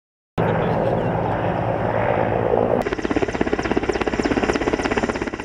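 An emergency ministry (MChS) helicopter flying, a loud steady roar of engine and rotor that shifts into rapid rhythmic blade chopping, close and continuous.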